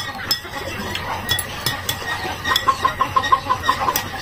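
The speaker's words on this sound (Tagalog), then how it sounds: "kagubot ng mga manok" Chickens clucking nearby in a backyard, a run of short rhythmic clucks building toward the end, with scattered clinks and faint background noise.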